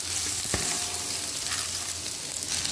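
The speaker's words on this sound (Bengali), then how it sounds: "তেল গরম হয়ে গেছে, আমি এর মধ্যে চাল আর ডালটা দিয়ে দেবো।" Rice and lentils fry in hot oil and ghee for Bengali-style khichuri, a steady, dense sizzle with a brief sharp clink of stirring early on.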